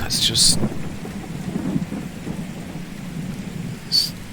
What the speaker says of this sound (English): I know it's less than ideal doing this in the rain